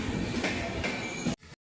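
Train passing through Lar Road railway station, a loud close rumble of rolling wagons with wheel squeal that stops suddenly.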